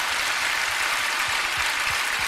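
A church congregation claps before a sermon, producing a dense, steady roar of many hands clapping together at full volume with no pauses.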